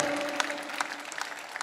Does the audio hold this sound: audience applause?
yes